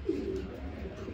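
A large, light-coloured pigeon coos softly and close by, a brief low murmuring call over a quiet background.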